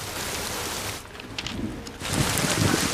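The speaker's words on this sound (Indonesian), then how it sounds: "Mereka pun bertemu di tengah guyuran hujan yang cukup deras." Heavy rain pours steadily as a dense, continuous wash, briefly easing before returning louder with pattering drops close by, with no voices.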